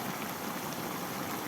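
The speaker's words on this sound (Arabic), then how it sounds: "هحط غلوه واحده بس ان الخضار يدبل" Vegetables at a rolling boil in a pot, a steady close bubbling hiss that stays even and continuous without speech.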